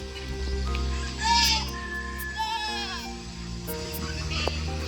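Goats bleat on a farm in the desert outside Dubai, several wavering calls rising near and loud over a steady low hum, with other livestock around.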